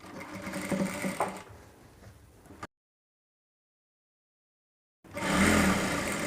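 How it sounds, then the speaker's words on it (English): A sewing machine stitches fabric with a fast, steady mechanical whir for a couple of seconds, stops for a silent gap, then starts again loudly and close. "Place it back underneath the foot. Continue stitching to the front."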